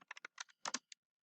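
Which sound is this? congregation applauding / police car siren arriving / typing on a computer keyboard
typing on a computer keyboard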